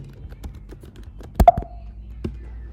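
Computer keyboard typing in a quiet room: a handful of crisp separate key taps, with a tighter cluster of louder strokes in the middle, close and dry.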